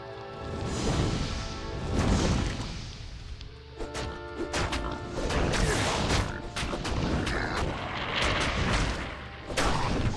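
Loud crashing blasts and thuds burst out repeatedly during a Diablo II fight, close and dense, with short gaps between the impacts over a steady low rumble of game noise.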